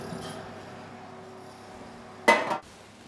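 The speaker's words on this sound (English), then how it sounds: "So let's get our hot tray out of the oven." A hot metal baking tray comes out of an oven with a single sharp clatter near the end, after a steady low kitchen hum.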